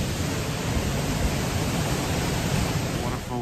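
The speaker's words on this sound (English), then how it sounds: "The waterfall was so crazy" Waterfall in the Bali jungle: a dense, steady roar of rushing water, loud and close, filling the whole clip without pause.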